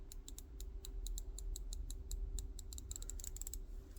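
A smooth ratchet wrench, from a set that includes Tekton, Capri, Milwaukee and Gearwrench, clicking in a rapid, even series of sharp, close ticks that speed up toward the end, over a low steady hum.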